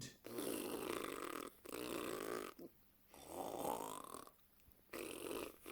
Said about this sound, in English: Someone snores like a steam train.